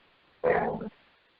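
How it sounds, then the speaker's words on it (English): A dog in the background gives a single short bark or growl of about half a second, faint against a quiet room. "So if you hear barking in the background."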